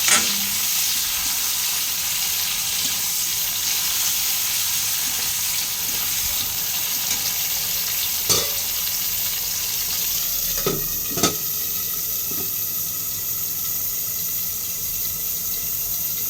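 Tomatoes frying in a pan of oil for a spicy tilapia curry, a steady close sizzle throughout with a few sharp clinks and scrapes of stirring toward the end.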